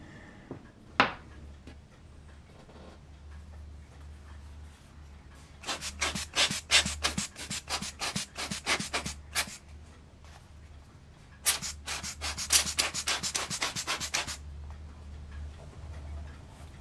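Rhythmic rubbing and filing strokes while enlarging small openings on a wooden model ship part, in two close bursts of rapid back-and-forth scraping separated by quieter pauses, with a single sharp tap near the start.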